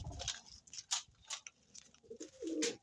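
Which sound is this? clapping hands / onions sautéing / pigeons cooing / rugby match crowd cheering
pigeons cooing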